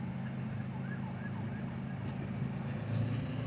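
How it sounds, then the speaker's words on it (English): A distant emergency siren wails faintly over the low rumble of car traffic joining a motorway, its rising and falling tone repeating for a few seconds. "I heard sirens."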